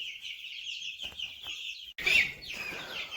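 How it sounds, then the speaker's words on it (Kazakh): Three-week-old broiler chicks in a rearing house give a continuous shrill peeping, a dense flock chorus that swells into a louder, busier burst near the end. "Алдыңызда 3 апталық балапандар"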